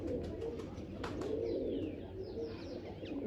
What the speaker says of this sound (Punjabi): ਉਹ ਕਬੂਤਰ ਕਿੱਧਰ ਗਿਆ